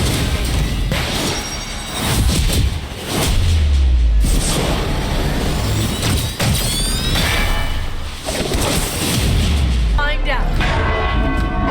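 Bell tower bells in the video game Marvel's Midnight Suns ring loudly, mixed with heavy crashes, booms and battle impacts, with voices heard throughout the dense, continuous din.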